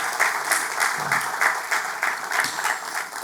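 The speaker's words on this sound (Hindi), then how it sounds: "तालियों के साथ स्वागत करें उनका।" A church congregation claps together to welcome a first-time visitor, loud rhythmic applause pulsing in a steady beat close by.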